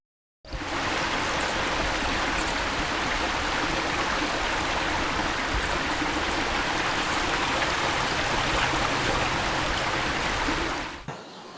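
A river rushing near a series of waterfalls in Palakkad, a loud, dense, unbroken roar of flowing water that starts abruptly and holds steady for about eleven seconds before cutting off.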